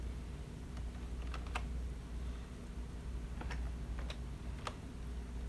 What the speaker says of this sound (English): I'm going to be typing my email in there really quickly